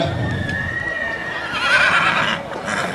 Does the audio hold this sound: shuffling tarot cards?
no